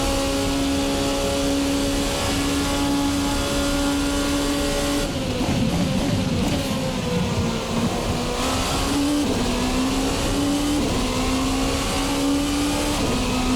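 A VRC Revenga R13 race car in Assetto Corsa holds a loud, steady engine drone close up, its pitch dipping and rising as the throttle is feathered, with faint tire noise.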